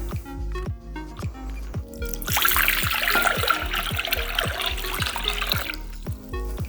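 One liter of water pours into a container. It starts as a close trickle with drips, swells into a fuller gushing pour for a few seconds, then tapers off, with no talking over it.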